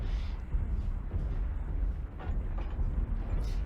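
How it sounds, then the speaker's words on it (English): Four AC5 Ultra autocannons firing in MechWarrior Online: repeated heavy, thudding bursts layered over a dense low battlefield rumble, with a few sharper cracks standing out. "the amount of firepower put out by those four AC5 Ultras is just devastating"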